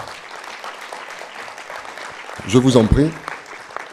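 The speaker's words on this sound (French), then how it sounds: "On va l'applaudir." A conference audience at a travel event in Marseille applauds an ambassador steadily at moderate volume. A voice speaks briefly over the clapping partway through.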